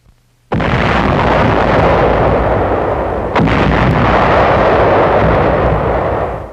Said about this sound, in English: Naval shelling softens up Jap positions on Aka Island in an early phase of the invasion